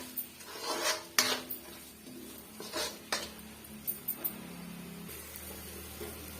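Fish curry masala is sautéed in a pan over medium heat, with a spoon scraping and clinking against the pan in irregular bursts over a low sizzle.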